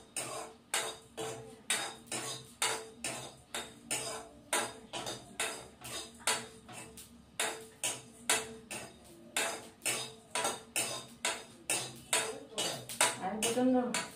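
Roasted spices are pounded in a small mortar and pestle with steady, evenly spaced metallic clanks, about two per second, close up and moderately loud, for the whole stretch.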